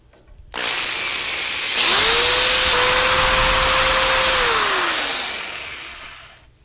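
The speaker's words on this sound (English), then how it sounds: "let's go ahead and drill the holes in them now" A power drill bores holes in a metal spoon being made into a fishing lure: the motor spins up, holds a steady high whine for a few seconds, then winds down, loud and close with no voices.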